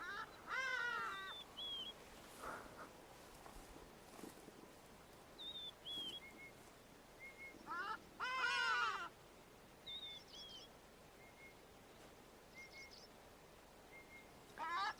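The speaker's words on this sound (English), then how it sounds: "There's a hardy-dar ibis in the background." Hadeda ibis call in the background on a South African game reserve at Shamwari, with scattered harsh, raucous bursts and shorter squawks at a distance. Quieter bird notes and faint ambient sound run between them.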